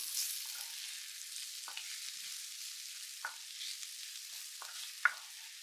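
A spoon stirs seasoned food with paprika and pepper in a pan beside frying burger patties, making a steady soft sizzle broken by a few scraping knocks, with no talking.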